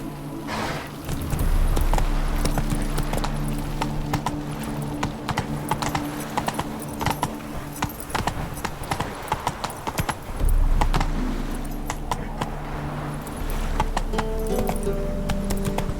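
A horse gallops with rapid, steady hoof clip-clops in the video game The Witcher 3: Wild Hunt, loud and continuous, over game ambience with faint clinks.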